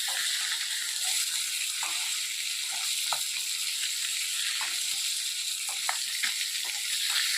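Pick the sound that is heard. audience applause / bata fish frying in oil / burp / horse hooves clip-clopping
bata fish frying in oil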